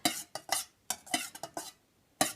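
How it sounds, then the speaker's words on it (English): A utensil stirring melted tallow for candle making, close and clear scraping strokes in an uneven rhythm, about eight separate scrapes with short pauses between them. "And give it a stir."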